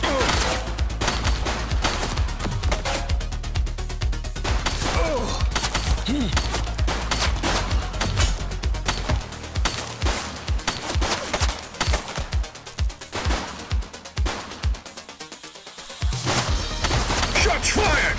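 Rapid bursts of machine gun fire and single gunshots from the police game The Precinct, loud and dense throughout, with sharp repeated cracks toward the end and a voice briefly heard.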